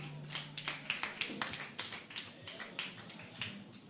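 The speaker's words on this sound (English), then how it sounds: "Round of applause for him, please." An audience at a conference hall applauds with a soft, continuous patter of many hands clapping. The sound is fairly faint and distant and holds steady throughout.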